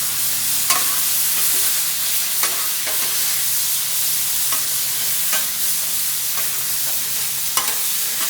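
Potatoes frying with soy sauce on a Blackstone griddle, a continuous close sizzle broken by periodic scrapes and taps of a spatula on the flat steel surface.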